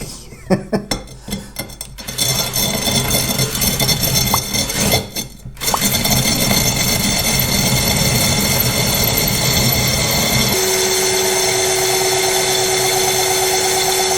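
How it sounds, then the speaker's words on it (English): A drill whirs steadily against a glass bottle, with scattered clinks and taps at the start, then a constant grinding hum that shifts slightly in tone near the end, running under the drill's own weight. "Not using hardly any pressure whatsoever, using the weight of the drill."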